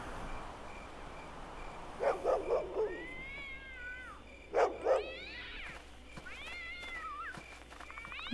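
Cat meowing in a series of drawn-out, rising and falling calls heard close over a quiet background, with a few short thumping sounds mixed in and no talking.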